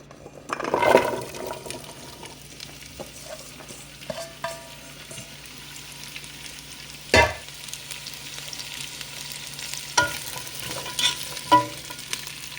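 Chopped vegetables for a shrimp and crab chowder are sautéing in a pot, giving a soft steady sizzle with a few scattered clatters and scrapes of a utensil.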